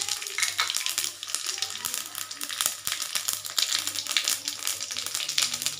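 Cumin and fennel seeds sizzle in hot oil in a kadai with a dense, steady crackling and spitting that stays loud and close throughout.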